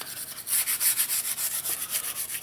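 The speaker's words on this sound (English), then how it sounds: "you will want a little brush and move it around, make sure that everything gets a little bit of oil here" A small brush rubs oil over the parts of a disassembled bench vise in quick, steady strokes, a close, even swishing pattern that continues without pause.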